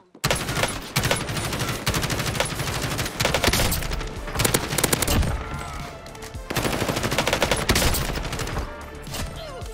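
Sustained bursts of ACR assault rifle fire in the shooter game Warzone, rapid loud automatic shots rattling in long strings with brief gaps, plus scattered game effects and no talking.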